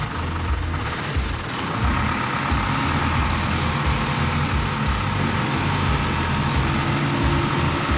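A one-of-a-kind hemp harvesting machine that mows and processes the crop in one pass runs loudly and close by, its engine giving a dense, continuous rumble and roar that rises slightly after the first couple of seconds.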